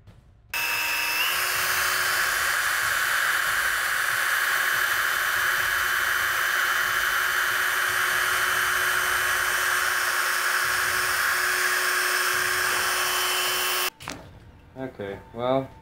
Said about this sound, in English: you're drilling holes to cars